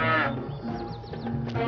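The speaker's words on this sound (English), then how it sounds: "Hey, leave that cow alone." Cow mooing once, a loud, close low bellow that starts with a harmonic-rich call and trails off, followed by faint clicks and rustles.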